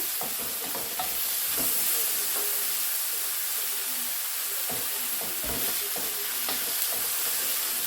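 Prawn egg fried rice being stir-fried in seasoning oil in a pan, with a steady loud sizzle and hiss and scattered clanks and scrapes of a utensil against the pan, and no talking.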